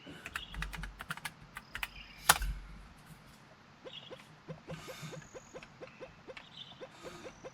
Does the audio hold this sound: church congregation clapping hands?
no